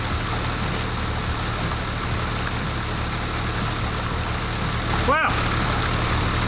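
A 4WD vehicle's engine drones steadily on a muddy back-road trail, a constant low rumble lasting throughout; a man briefly exclaims near the end.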